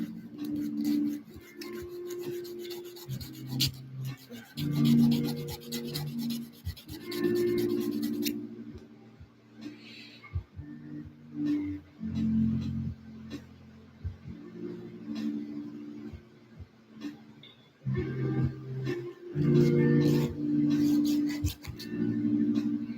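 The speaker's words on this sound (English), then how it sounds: "Filing for hours." Metal wire for wrapped jewelry is filed by hand in repeated rasping strokes, loud and close, coming in uneven bursts with short pauses between them.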